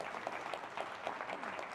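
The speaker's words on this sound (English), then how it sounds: "If you'd like to applaud, this is the time to do that for this major achievement." Audience applause at the AI for Good Summit 2025, a steady wash of many hands clapping in a large hall, even and sustained throughout with no voices over it.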